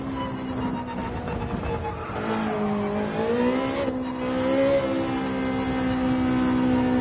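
A Ferrari race car engine in Gran Turismo 7 revs up under throttle while climbing a hill at Interlagos, a steady harmonic whine dipping on a shift then rising in pitch, loud and close, alone without talk.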